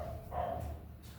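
Dogs on a village street let out a single short, muffled bark, fairly faint and a little distant, against low background noise.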